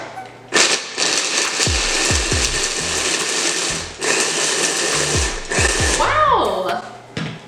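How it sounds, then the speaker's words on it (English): A food processor grinds almonds with a whirring, high-pitched motor run in several loud bursts, briefly stopping and restarting, then winding down with a falling whine at the end. "And then we're gonna process the almonds."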